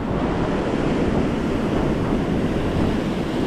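Ocean waves wash steadily onto a beach on the southern Chilean coast, a continuous roar of surf mixed with wind rumbling on the microphone, loud and unbroken with no voices.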